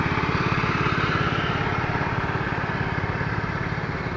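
Hit-and-miss gas engines run at an outdoor engine show, a steady rapid chugging pulse of exhaust beats with a continuous mechanical rumble, close and loud with no talk.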